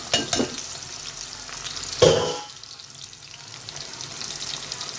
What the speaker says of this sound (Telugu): ఫస్ట్ కళాయి పెట్టుకొని ఆయిల్ వేసి వేడయ్యాక ఇదిగో సన్నగా కట్ చేసుకున్న ఆనియన్స్ వేయాలండి